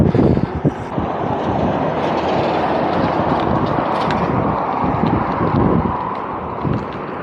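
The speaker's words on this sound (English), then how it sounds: "We are beside the highway here, you can hear the roar of the cars" Cars roar past on a highway beside a coastal cycle path, a loud, continuous rumbling wash heard up close with gusty buffeting throughout.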